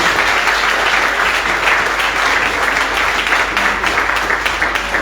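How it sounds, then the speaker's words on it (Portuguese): A church congregation at a conference claps together in a large hall: loud, dense, continuous applause that holds steady throughout, with a faint murmur of voices underneath. "glorifica o Senhor com as suas palmas"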